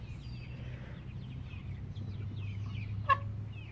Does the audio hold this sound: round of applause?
no